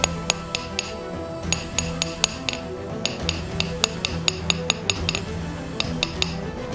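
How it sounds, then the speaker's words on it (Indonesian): A nail is straightened by hammering it with metal, giving a long run of sharp metallic strikes in an uneven rhythm, close and loud over a low background hum, with no talking. "coba luruskan dulu pakunya guys"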